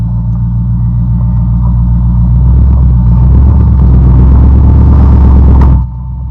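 A supercharged 1955 Chevy engine rumbles loud and close with a deep, steady roar that swells slightly, then drops abruptly to a lower idle near the end.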